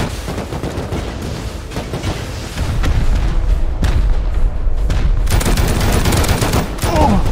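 Rockets explode during a raid in the game Rust: a loud, dense barrage of blasts and rapid gunfire that runs without a break and grows heavier partway through.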